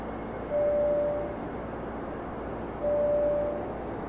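Engine noise heard inside the cabin of a FlightFactor Boeing 767-300 in X-Plane 12, a quiet steady hum with two brief tonal whines rising above it.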